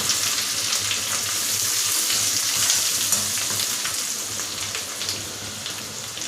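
Onion-garlic masala with fresh coriander sizzles and fries steadily in a pan for chicken sukka, with a continuous hissing crackle and faint scraping as it is stirred; no voices.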